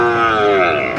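Cattle at the Kundadam livestock market, a cattle fair with Kangeyam breed animals, give one long, loud, close moo that fills the whole second with a steady drawn-out tone.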